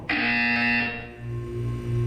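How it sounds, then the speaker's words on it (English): A loud electronic buzzer from the Portal 2 video game sounds steadily for about a second, then fades into a lower, wavering tone that continues to the end. "You will hear a buzzer. When you hear the buzzer, look down at the floor."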